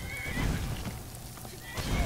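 A horse in the video game Skyrim whinnies in a short burst, then again near the end, with faint hoof clopping and game ambience between the calls.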